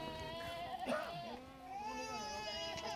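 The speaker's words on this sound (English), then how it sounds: "There's a goat giving birth over there." A goat bleating while giving birth in a busy village, with several drawn-out wavering bleats close by over steady background noise, no voices heard.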